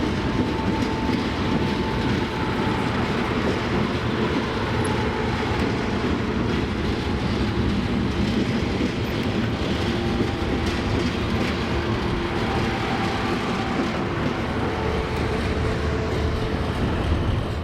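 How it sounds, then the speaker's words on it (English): A heavy train with two additional locomotives, arriving at Otira, New Zealand, rumbles steadily with rhythmic wheel clatter and a low engine drone, loud and continuous throughout. "Arriving at Otira with 2 additional locomotives added to the train at Arthur's Pass"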